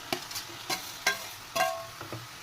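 Tomato being stirred and fried with softened onions in a pan for a North Indian gravy, with soft spoon scrapes and a light sizzle, a few distinct stirring strokes.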